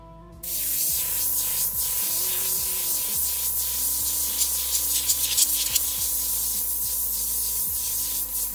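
An airbrush sprays acrylic ink in a continuous close hiss that starts abruptly and holds steady, with faint shifting tones from the compressor underneath and no speech.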